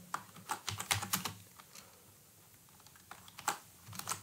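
Keystrokes on a computer keyboard while C++ code is entered, clustered in quick bursts of taps, with a pause in the middle and another flurry at the end, close and fairly quiet.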